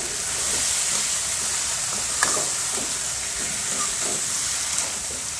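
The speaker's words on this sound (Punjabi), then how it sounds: "ਮਸਾਲਾ ਇੱਕਦਮ ਵਧੀਆ ਫਸਟ ਕਲਾਸ ਦਾ ਭੁੱਜਿਆ ਗਿਆ ਮਸਾਲਾ" Masala spices roast in a hot pan for an arbi and baingan sabzi, a steady sizzling hiss with occasional light stirring scrapes and clicks, close and continuous.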